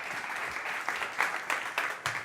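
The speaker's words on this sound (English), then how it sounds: "Big applause, my friend." Audience applause fills a startup competition stage at a tech summit, dense steady clapping with a few louder bursts building toward the end, no talk over it.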